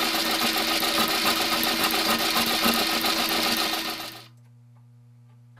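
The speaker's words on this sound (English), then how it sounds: "Now it's time to put each one into the shaper to machine a 1mm square slot at the bottom of both V grooves." Metal shaper cutting a 1mm square slot in the bottom of V grooves on a steel tool holder, a steady rhythmic mechanical clatter and hum that winds down and stops near the end, leaving a low residual drone.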